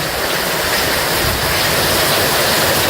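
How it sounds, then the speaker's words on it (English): Heavy rain pours down steadily outside a garage work area, a dense, continuous hiss with spray and splashing, loud and close throughout with no voices. "you can see the rain's really picked up"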